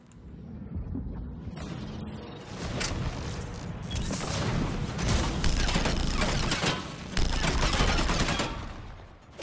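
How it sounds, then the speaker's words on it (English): In a video game, a missile fires and explodes amid a dense, sustained barrage of rapid gunfire-like bursts and booms. The roar builds and stays loud for about nine seconds, with no talking. "Fire the missile."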